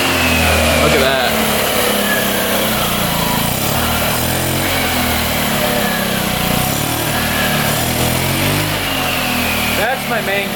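A free scooter with a bent back tire idles with a loud, steady buzzing engine drone that runs throughout, close to the listener.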